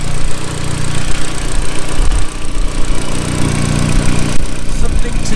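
Audi S3 engine running without turbo boost, a steady continuous mechanical drone heard close up with a low rumble throughout the whole stretch.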